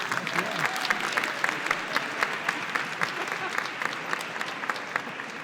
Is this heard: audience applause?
yes